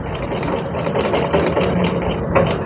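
A sewing machine stitches a quarter-inch seam around the neckline of a child's frock, a loud, close, continuous whirring rattle with no pause and no talking.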